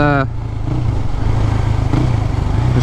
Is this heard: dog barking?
no